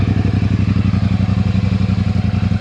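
Triumph Bonneville Speedmaster motorcycle engine running after starting, a close, steady rumbling idle with rhythmic low thumping pulses.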